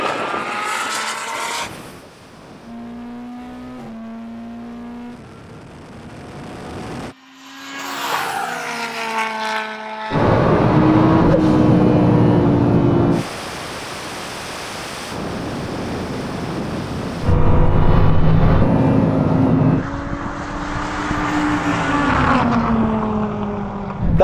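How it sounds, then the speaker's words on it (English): A Mini, a Bugatti Chiron Supersport and a Lamborghini drag race, the revving engines rising and falling through gear changes in loud, sustained bursts. Roaring wind and rushing noise cover much of it, with brief quieter gaps between runs. "That was the weirdest drag race ever."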